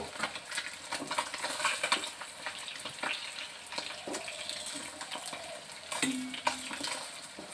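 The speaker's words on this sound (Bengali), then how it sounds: "মাছগুলোকে ভেজে নিয়ে একটু তুলতে দিলাম মাছগুলো ভাজা হয়ে গেছে" Pieces of snakehead fish fry in a hot pan, giving a soft, steady sizzle with occasional clatter and scraping from turning them. The sound is quiet and close, with no speech.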